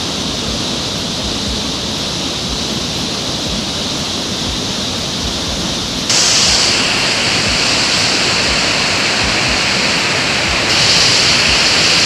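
Riam Jugan waterfall in Sanggau Ledo, Indonesia, roars as a loud, continuous broadband rush of falling water that fills the whole stretch with no voices.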